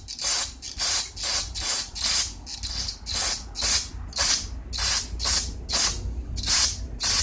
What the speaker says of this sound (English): Just blast it out with some cleaner.